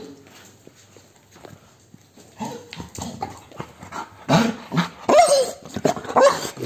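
A Labrador dog moves around close by, with scuffling, paws on the floor and a few short barks and growly vocal bursts that grow louder and busier toward the end.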